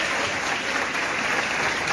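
A convention audience at a Spanish-language church gathering claps steadily in a dense, even wash of applause that holds at full strength from start to finish, with no voices rising above it.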